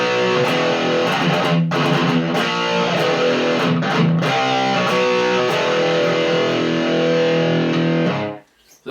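Heavily distorted electric guitar chugs through the chorus riff of a song, a dense, loud and continuous wall of chords with brief choked gaps, played alone before cutting off abruptly at the end.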